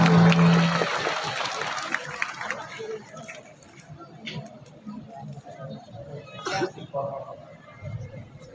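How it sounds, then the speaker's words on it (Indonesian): Audience applause at a religious fundraising gathering at an Islamic boarding school, loud at first then fading into scattered claps and crowd murmur, with a voice speaking over it. "Silakan kasih tepuk tangan."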